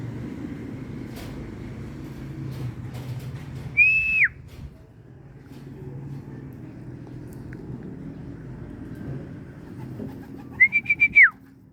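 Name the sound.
pigeon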